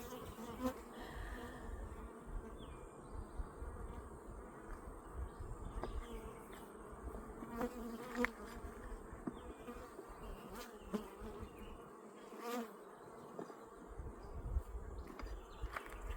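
Honeybees at an open, brood-filled hive drone in a steady, dense buzz throughout, close and fairly quiet, with individual bees passing near now and then and no talk.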